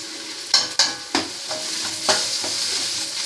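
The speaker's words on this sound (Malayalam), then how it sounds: "ഒന്ന് നന്നായിട്ട് ഇളക്കാം." Cabbage thoran with crushed coconut stirred in a frying pan, a spatula scraping in several sharp clattering strokes over a steady soft sizzle, close and alone with no talk.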